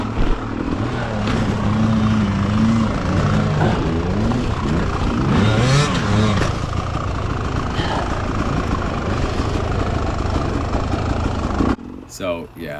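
An off-road dirt bike's engine drones and revs steadily on a steep hill climb, loud and continuous, while someone talks over it. The run cuts off abruptly near the end.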